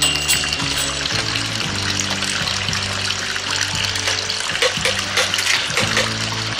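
Water trickles and splashes steadily through a pipe at a nursery pond for giant gourami fish, close and continuous, with a low hum underneath throughout.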